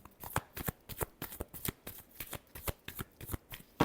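Tarot cards being shuffled by hand in a riffling rhythm, about fifteen quick, crisp flutters spaced evenly and close up, with no talking over them.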